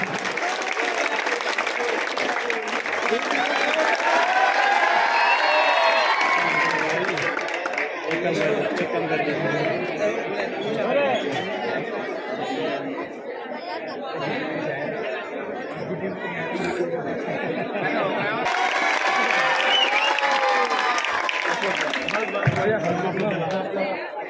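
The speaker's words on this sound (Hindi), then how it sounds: "ऊपर से तालियों से स्वागत करें" Crowd applause and chatter at an Urdu poetry mushaira in Chinawal, sustained clapping rising and falling across the stretch beneath someone speaking over a microphone.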